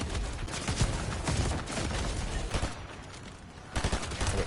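Rapid gunfire crackles in a video game, dense bursts of shots piling on one another at close range, loud and nearly continuous with a brief lull before a final volley.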